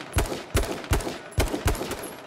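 Gunfire in the video game King of the Kill: five sharp, punchy shots spaced roughly half a second apart, loud and close, with brief decays between them.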